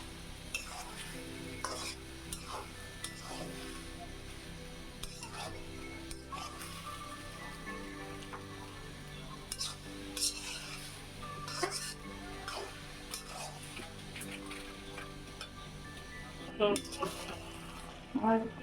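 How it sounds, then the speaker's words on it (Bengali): Chow mein noodles stir-fried in a pan with vegetables, chicken and shrimp: a steady sizzle under repeated scraping and clanking of a utensil against the pan, close and continuous. "এখন আমি সব মিক্স করতেছি একসাথে"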